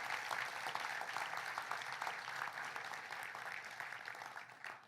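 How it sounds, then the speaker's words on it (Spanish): A church congregation applauds, many hands clapping together in a dense, sustained wash of applause that holds steady and then thins out toward the end. "¿Por qué no pongan un aplauso a Él?"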